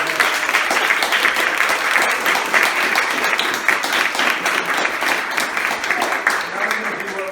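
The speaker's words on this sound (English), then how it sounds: "please give everyone a round of applause on the stage" Audience at a panel discussion gives a sustained round of applause, dense continuous clapping from a sizeable crowd lasting several seconds at even loudness.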